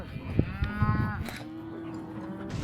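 Cattle mooing in open Patagonian fields, several drawn-out moos from cows at a moderate distance, with faint outdoor clatter around them.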